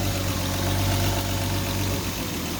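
A car engine idles steadily at about 650 rpm with a smooth, constant low hum and even rumble throughout, and no voices.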